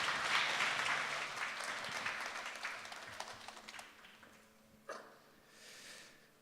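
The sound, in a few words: audience applause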